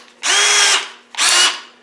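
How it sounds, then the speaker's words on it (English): A power drill run at low speed drills out a damaged thread during a thread repair, giving two loud sustained whirring bursts with a short pause between them and no talk. "Drill that out. Now I've got this on low speed"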